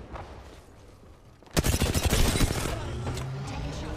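Apex Legends gunfire erupts after a quiet start as a loud, rapid automatic burst of shots, followed by continuing softer firing and game noise.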